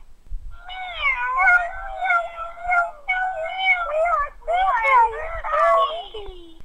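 A chorus of several cats meows and yowls in overlapping wavering cries, close and fairly loud, continuing in bursts with short gaps and no speech.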